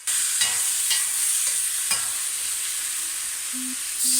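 Winter melon stir-fried plainly in a wok, a steady loud sizzle running throughout with scattered scraping stirs and clinks, no voices.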